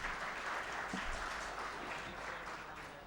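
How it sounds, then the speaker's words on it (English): An audience at a conference panel discussion claps in a steady, even wash of applause that fades slightly toward the end. "can we give each and everyone a huge round of applause?"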